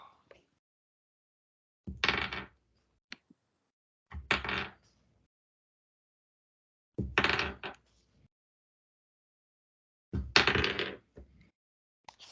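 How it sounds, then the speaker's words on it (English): Handfuls of dice roll onto a table during a tabletop role-playing game, four separate clattering bursts several seconds apart, close and crisp, with quiet gaps between the throws. "It's a lot of dice."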